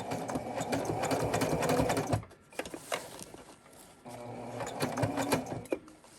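A sewing machine runs in steady bursts while stitching a pattern piece, a close, busy mechanical whir that stops briefly near the middle and then resumes.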